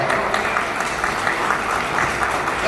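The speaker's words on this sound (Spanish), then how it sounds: "un aplauso pues para él, que está haciendo un buen trabajo" Audience at a recognition event in Chimbote claps in sustained, even applause for its whole length, loud and close, with no voices over it.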